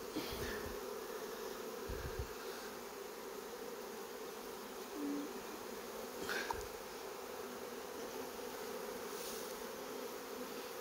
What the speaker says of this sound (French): Vous voyez, il ne faut pas avoir peur de brasser les abeilles.